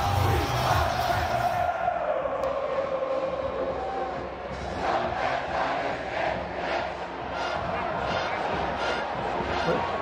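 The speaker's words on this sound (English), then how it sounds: "They got a band sitting amongst the crowd." Dense roar of a huge college football stadium crowd, a band playing from within the stands, sustained and loud with swells of cheering throughout.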